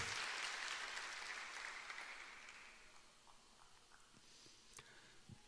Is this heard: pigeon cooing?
no